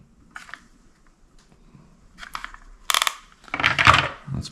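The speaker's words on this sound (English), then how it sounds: "So I'm going to pull out the ribbon." A ribbon is pulled out of a vintage typewriter: scattered light clicks and short plastic rattles, ending in a louder burst of close clattering.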